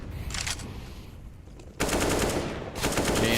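Rapid gunfire from a Counter-Strike match, a professional esports game where pistols trade shots with an instant headshot: dense bursts that swell loudly around midway and again near the end, with no talk.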